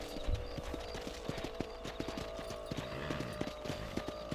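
Horse hooves clip-clopping at a steady walking pace in Red Dead Redemption, close and distinct with a few heavier thuds, no talk over them.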